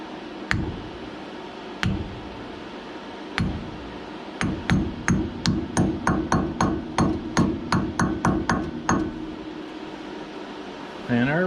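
A hammer lightly taps a brake rotor onto the front hub of a 1974 MG Midget 1275: a few spaced knocks, then a quickening run of about twenty sharp metallic taps, close and clear over a steady background hum.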